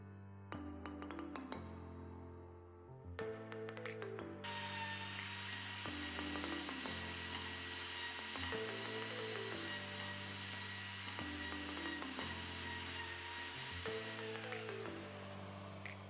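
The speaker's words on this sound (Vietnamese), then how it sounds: "Khi mà anh em chúng ta đục lỗ bằng chiếc máy soi này" Dongcheng DMR02 handheld wood router cutting into wood, a loud, steady high-pitched motor whine that repeatedly surges and dips as the bit plunges and bites, running close and continuously with brief changes in load.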